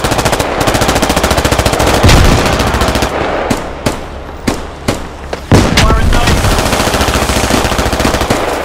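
Machine gun fire in the military shooter game Squad: a loud sustained burst, then a pause with scattered single shots, then another long rapid burst, close and harsh.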